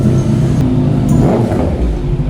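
Kawasaki ZX25R motorcycle engine running loud and close, a dense low rumble with a rising rev near the middle, continuous for the whole stretch.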